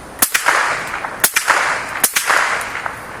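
A Marlin Glenfield Model 60 .22LR rifle fires three sharp, loud cracks spaced about a second apart, each with a quick metallic echo, while the semi-automatic action stutters and malfunctions between rounds.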